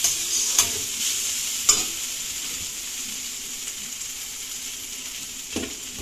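Chow mein stir-fried in a pan, a steady sizzle with a few sharp scraping clinks of the utensil against the pan, close and alone with no talk.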